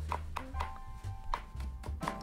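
A knife chops spring onions rapidly on a cutting board, sharp close taps in an uneven rhythm.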